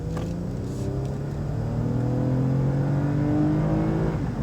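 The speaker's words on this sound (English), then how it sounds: "A little acceleration run here, not in sport mode. I'm getting onto the on-ramp." A 2019 Lexus ES 350 accelerates onto a highway on-ramp outside sport mode, its engine note rising smoothly and steadily through the gears, heard from inside the cabin without talk.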